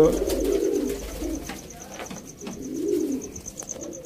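Sialkoti pigeons coo softly in soft, low rolling phrases that repeat over a few seconds, close by, with faint background chirps and someone speaking at times.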